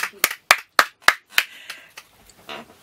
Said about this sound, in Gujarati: એમને તાળીઓથી વધાવીને આવકારો